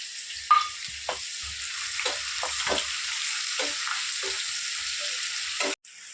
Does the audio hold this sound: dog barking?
no